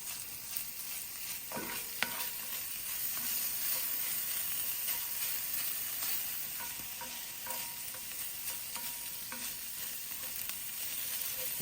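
Sausage browning in a frying pan for a simple cowboy breakfast, a continuous close, even sizzle with a few soft scrapes and taps of a utensil scattered through it.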